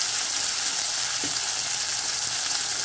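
Chopped tomatoes go into a hot tadka in a pan, and a loud, steady sizzle of frying fills the whole stretch with no talking.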